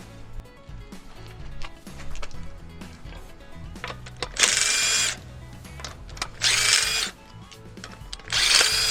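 Bursts from a power tool loosening the wheel of a 2009 Honda Civic, three loud sustained whirring runs of about a second each, close up, separated by quieter shop noise and small clanks.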